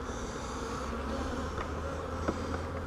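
Honey bees hum in a continuous dense drone around an open hive during an inspection, close and steady, with a few faint clicks of handling.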